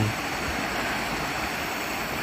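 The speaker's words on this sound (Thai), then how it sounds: "เต็นท์ริมน้ำเลยนะครับ ริมลำธารเลย" A stream flows beside a riverside campsite at night in Saraburi, Thailand, a steady, dense rushing of water that fills the whole moment without pause, close and unbroken.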